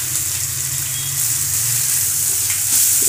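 Grated carrot and green chillies sautéing in a pan for rava idli, a loud, close, continuous hiss and sizzle with faint stirring underneath and nobody speaking.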